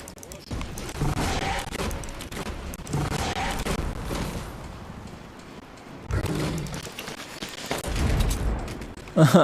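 Gunfire in the video game Fortnite: bursts of rapid shots and booms rattling through a busy match, with voices talking at times over the action.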